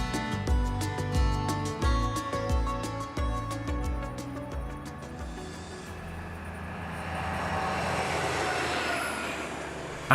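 A Märklin model Deutsche Bundesbahn diesel locomotive runs along track, with rhythmic clicking rail joints at first that give way to a smooth, steady rolling hum.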